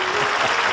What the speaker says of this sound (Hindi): आपको चाहिए उनके लिए तालियां तो बजाएं ना